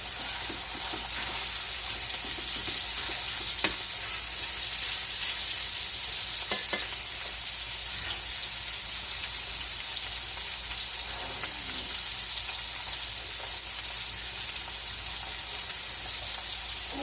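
Steak sears in a hot pan with a loud, steady crackling sizzle that holds without a break.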